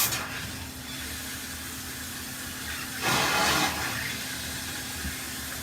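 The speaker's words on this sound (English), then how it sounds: "That was just the air coming out of the line after I turned the water back on." Trapped air sputtering and hissing out of a household copper water line just after the supply is turned back on at a quarter-turn ball valve angle stop: steady hiss with a louder spitting burst partway through, no talking.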